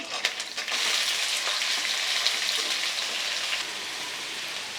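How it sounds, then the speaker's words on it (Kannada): Onions sizzling in hot oil with cumin seeds and curry leaves for Guntur chicken, a steady dense crackle that holds for nearly five seconds with a few sharper pops early on, close and moderately loud, with no talking. "ನೋಡಿ ಈರುಳ್ಳಿ ಚೆನ್ನಾಗೆ ಫ್ರೈ ಆಗಬೇಕು ಎಲ್ಲ ಐಟಮ್ಮು ಚೆನ್ನಾಗಿ ಫ್ರೈ ಆಗಬೇಕು"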